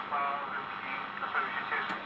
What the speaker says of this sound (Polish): Radio, jak słychać, gra już.